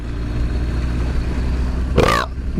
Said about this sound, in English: That's today's burp.